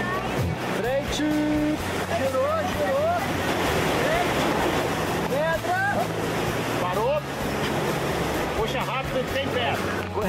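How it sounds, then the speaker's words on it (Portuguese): River rapids in the Itaimbezinho canyon in Brazil rush loudly and steadily around an inflatable raft, a dense, unbroken roar of churning whitewater, while several people shout over the noise. "Corredeira crítica."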